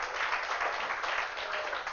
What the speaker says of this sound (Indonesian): Kasih tepuk tangan dulu dong buat Tuhan Yesus